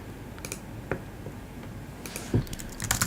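Keyboard typing on a computer, with scattered key clicks building into a quicker burst of keystrokes toward the end, close and fairly quiet, with no voices.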